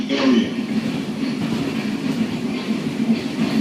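A New York City subway 5 train runs along the track toward 180th Street, giving a steady, loud rumble of wheels and car noise close by, with faint clicking and no speech.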